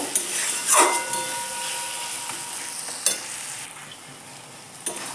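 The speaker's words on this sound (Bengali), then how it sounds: "গোলমরিচের গুঁড়ো জিরে গুঁড়ো আর আর দিয়ে দিচ্ছি হলুদ দিয়ে একসঙ্গে মশলাটা কিছুক্ষণ কষিয়ে নেব" Ground pepper, cumin and turmeric frying together in a pan for a jackfruit and prawn curry, a steady soft sizzle with a few light scrapes of stirring, close and alone with no voices.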